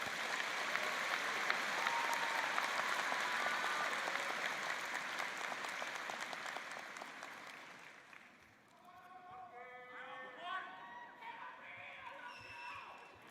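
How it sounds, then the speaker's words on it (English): A large audience at a university degree celebration applauds a student speaker, sustained dense clapping that fades as a voice begins speaking over the tail. "Let's give him a round of applause."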